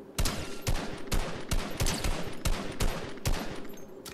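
Rapid bursts of gunfire in Fortnite BedWars strike the player, sharp shots repeating roughly every half second over steady game noise, loud and close.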